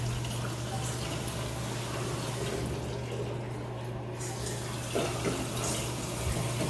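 Newly installed bathroom faucet running in a steady, even stream of splashing water into a sink, close and continuous throughout, with a faint low hum beneath and a small knock near the end.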